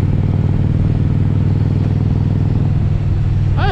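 An Indian Challenger motorcycle with a V-twin engine rides along at a steady loud drone, a continuous close throbbing rumble with no talk.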